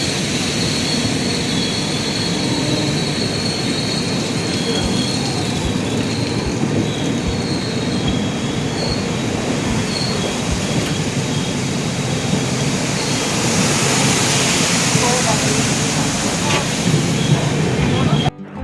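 A passenger train on the long Bangalore to Bikaner journey rolls on with a loud, continuous rumble and rattle that holds steady for the whole stretch.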